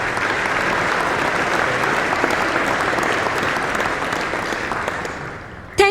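An audience applauding to welcome speakers onto a stage, dense steady clapping from a large crowd that carries on loudly for several seconds before tapering at the end.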